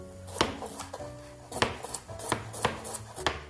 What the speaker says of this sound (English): I'm going to cut this yellow carrot